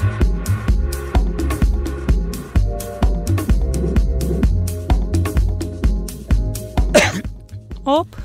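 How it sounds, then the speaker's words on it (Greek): A person coughs on air during a Greek radio talk show, with a couple of sharp, loud coughs near the end, heard over music and talk. "Στον αέρα βήχουμε."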